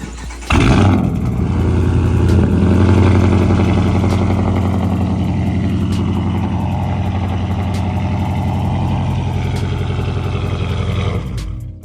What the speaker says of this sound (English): I'm gonna have to go ahead and get that cold start in for y'all for the morning